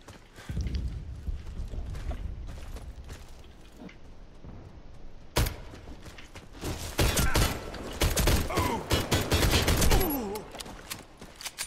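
Enemy gunfire in a Warface one-on-one match, SIG Sauer P226 in play: scattered sharp shots early, then a loud crack and dense rapid bursts of firing, near and punchy, with a little talk underneath.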